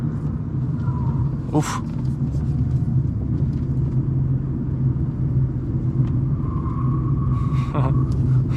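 A front-wheel-drive car rounds a roundabout with a steady low engine and road rumble that holds throughout. Someone speaks briefly over the drone.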